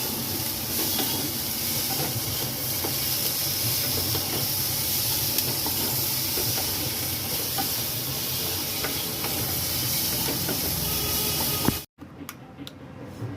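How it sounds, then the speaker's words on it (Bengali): Whole spices ground together in an electric grinder for matar paneer: a loud, steady whirring roar runs unbroken for about twelve seconds, then cuts off abruptly, leaving quieter background. "সব কড়া মশলা একসঙ্গে বাটা হবে।"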